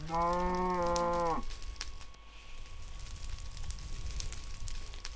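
A Minecraft cow lets out a loud, near moo as it catches fire, then a steady crackle of burning follows underneath.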